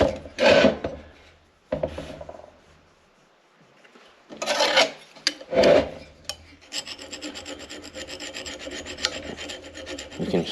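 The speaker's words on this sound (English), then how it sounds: "You can hear that rust coming off." Rust being scraped off a Letourneau Tournapull D diesel-electric motor part makes rough, raspy filing strokes: a few loud separate bursts, then a steady run of fast rubbing scrapes close by.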